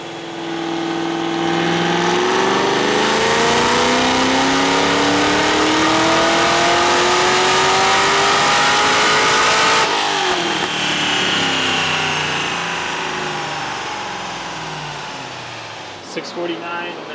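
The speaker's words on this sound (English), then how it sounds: "I'm going to make probably a final pull." A supercharged C6 Corvette ZR1 V8 roars through a final dyno pull, a loud sustained rev climbing steadily in pitch with supercharger whine, then easing off and cutting out near the end.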